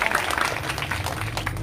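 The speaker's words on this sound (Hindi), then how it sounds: "जरा एक बार ताली बजा करके सभी स्वागत कर दें।" A village crowd claps steadily in welcome at an outdoor political gathering, a dense, continuous patter of many hands held at an even level throughout.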